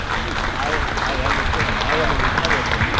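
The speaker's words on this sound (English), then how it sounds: "Can we please give him a round of applause" Festival crowd applause at an outdoor Hmong festival, steady, loud and continuous clapping filling the whole stretch with a busy, crowded texture.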